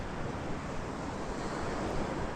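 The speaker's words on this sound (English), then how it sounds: "Just listen to those waves crashing on the sand." Ocean surf rolls onto golden sand at a sunny California beach, a soft continuous wash of breaking waves, faint and steady with a breezy hiss.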